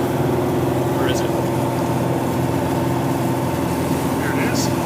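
Steady, loud drone of a Yanmar 4JHE diesel engine, freshly warmed up, running aboard a small 25 ft diesel trawler built in 1991, with a constant low rumble and hum throughout.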